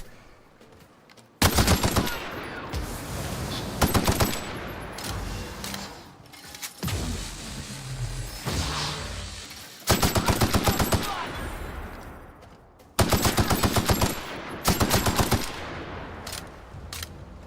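An assault rifle fires against robot armor in The Outer Worlds, several loud, sharp automatic bursts separated by brief gaps, with scattered impacts and background game noise between them.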